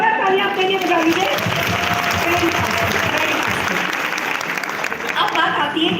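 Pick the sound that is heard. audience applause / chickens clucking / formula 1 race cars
audience applause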